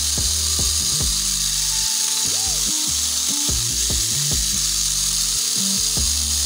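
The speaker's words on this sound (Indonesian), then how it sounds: "Kita engine on. Ini cukup halus, tidak begitu berisik." A motorcycle engine idles smoothly just after start-up, a steady loud close mechanical hum with shifting low pitched tones and no voices over it.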